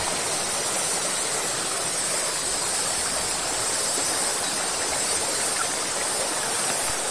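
A small river stream flowing at the bottom of a valley in north Bandung, a steady close rushing wash of water with no voices over it.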